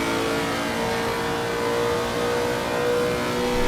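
A Lexus race car in Assetto Corsa Competizione runs flat out down the back straight at Monza, its engine holding a loud, sustained high-revving tone from start to finish.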